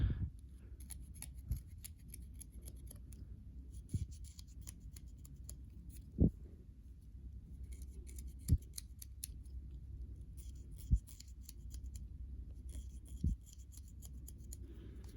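Scraping the tip of a handmade oboe reed with a small blade: quiet, sparse strokes with a few sharper clicks spaced every couple of seconds over a soft background hush, and no talking.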